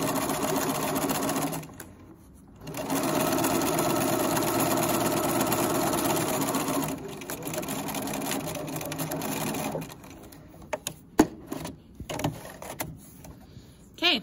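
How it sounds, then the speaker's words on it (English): A sewing machine runs a seam with backstitching at the start and end, a steady close mechanical whir that pauses briefly, resumes, then gives way to scattered clicks and handling noises. "We're gonna backstitch at the beginning and at the end."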